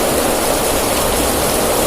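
Heavy rain pouring down in a steady, loud, dense hiss with no break and no voices.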